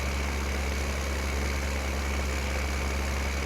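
A Zetor Major 80 tractor engine in Farming Simulator 15, a steady, loud, low droning hum that runs without a break, with no voices.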